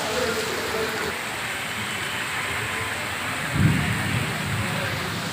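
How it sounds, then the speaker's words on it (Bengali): A heavy, long-lasting downpour falls on a Dhaka street near the Bangladesh Supreme Court, making a dense, even roar with a brief low rumble near the middle. "ঢল বৃষ্টি।"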